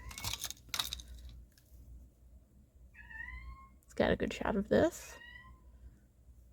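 A cat meows a few times in short rising calls, close by, with a person speaking briefly before it and some clattering noises.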